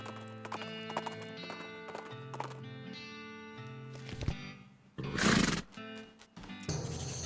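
Horse hooves clop steadily as it is led across a log in the video game West of Loathing, with a loud whinny near the end over a light game music bed.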